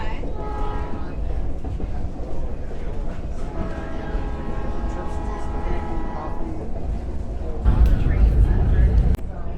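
Budd RDC diesel railcar rolling on rails during a fall foliage excursion from Pottsville, a steady low rumble with engine hum throughout and a louder surge of wheel and track noise near the end, with people talking faintly.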